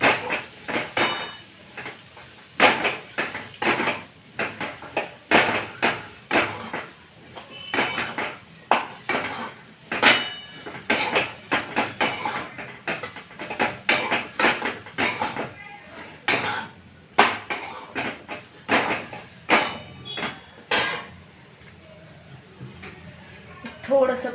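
Guava curry with niger and coriander seed powder being stirred in a metal pan, a long run of rapid, sharp scraping and clinking strokes in an uneven rhythm, close and fairly loud, with occasional talk mixed in.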